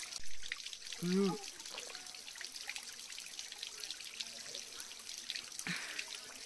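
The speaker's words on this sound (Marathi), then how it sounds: "पुढे असं झरण्याजवळ गेला, थंडगार पाणी भेटेल तुम्हाला." Cold spring water trickles and drips steadily in the open on a mountain trek at Harishchandragad, with a short voice briefly heard near the start.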